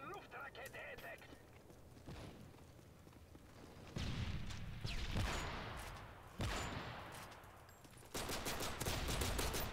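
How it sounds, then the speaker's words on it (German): Several sharp revolver gunshots in Call of Duty: Modern Warfare 3, on the Lockdown map: loud bursts over a busy background of game noise and some speech. "Ich find's cool, wie der Schuss, wie der Sound beim Revolver total hinterherhängt."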